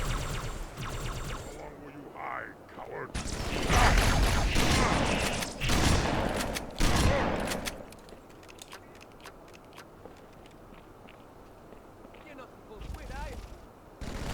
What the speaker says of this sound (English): have the marines shoot them. Shoot with the turret of the warthog